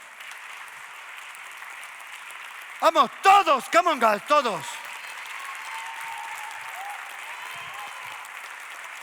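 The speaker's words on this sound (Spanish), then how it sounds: "Y nos despedimos con fuerte aplauso." A church congregation claps loudly and steadily at the close of a sermon, while a nearby voice calls out over the applause.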